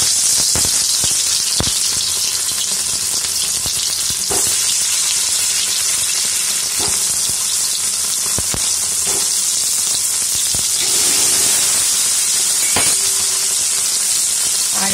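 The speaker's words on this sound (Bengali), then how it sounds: "এখন 2 কলা সর্ষের তেল দিয়েছি আর এর মধ্যে কিন্তু আমি এই ছোট আলুগুলো ভেজে নেব।" Small potatoes fry loudly in mustard oil, a dense continuous sizzle right up close with scattered crackles and a few sharp clicks of a utensil against the pan throughout.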